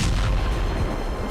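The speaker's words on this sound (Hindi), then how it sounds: "स्टॉर्म शैडो से हमला, रूस का शहर बाल बाल बचा।" A Storm Shadow missile strike explosion, a loud deep booming rumble that fills the short stretch without pause.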